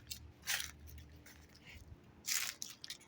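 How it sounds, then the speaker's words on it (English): Dry December leaves crunch underfoot outdoors in a few faint, scattered crackling bursts, with two stronger crunches standing out over a low background hum. "Just look at the leaves. They're crunchy."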